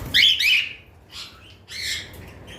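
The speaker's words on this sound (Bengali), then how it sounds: "আসলে দুইটা পাখি প্রচুর ভয় পাইতেছে" Frightened breeding-pair cockatiels and conures squawking close by in shrill, harsh bursts, one long cluster at the start and another near the end, with short gaps between.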